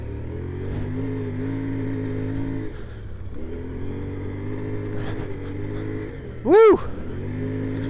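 A CFMOTO Ibex 450 motorcycle ridden off road on sand, its engine droning steadily through the gears with rising and falling revs, close and loud, with a rider's brief excited shout near the end.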